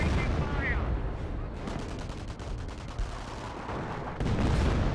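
Artillery barrage in the WWII strategy game Company of Heroes, a dense rumble of overlapping distant-sounding blasts and gunfire rolling continuously, with a heavier burst near the end.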